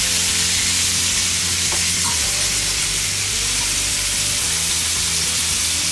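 Venison backstrap sears in a hot pan, a loud, dense, constant sizzle and hiss with a brief spattering pop near the middle, close up and uninterrupted by speech.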